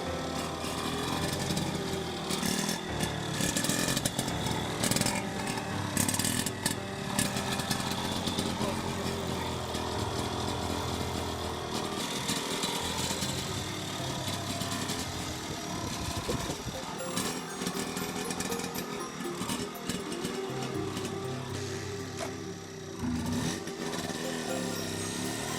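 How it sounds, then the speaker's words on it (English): A stationary engine section on an old WWII military truck runs with a rapid staccato beat, centrifugal drive belts slapping in a dense, loud mechanical clatter that fills the whole stretch, with a voice speaking over it. "The stationary engine section is pumping out an intoxicating staccato rhythm"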